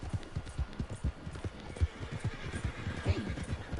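Several horses trot on a trail in Red Dead Redemption 2, with steady clip-clop hoofbeats and a neigh rising over them, all fairly close.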